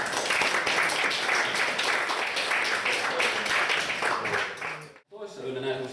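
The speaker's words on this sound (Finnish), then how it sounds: "pistetään meidät aplodit tässä alussa" Steady applause fills a workshop room at an eco-village in Keuruu, dense clapping running for about five seconds before cutting off abruptly, followed by a brief moment of quieter sound.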